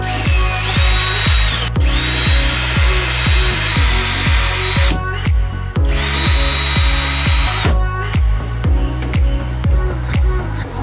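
A power drill backs angled screws out of blinds on an old yacht under restoration, whirring loud and close in repeated short bursts with brief pauses between runs.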